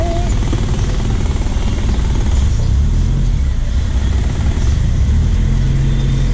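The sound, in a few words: car driving through Malindi traffic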